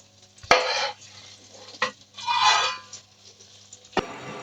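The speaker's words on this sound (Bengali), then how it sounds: "অপর এক একইভাবে ভেজে নেব দেখতেই পাচ্ছেন ভিউয়ার্স মাছগুলো সুন্দরভাবে ভাজা হয়ে গেছে" Katla fish pieces frying in hot soybean oil in a kadai, heard as bursts of close, loud sizzling separated by sharp knocks of a utensil against the pan, with short quiet gaps between.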